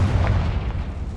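A Confringo fire spell explodes in the Hogwarts Legacy video game, a single deep, booming blast with a rumbling tail that fills the brief moment.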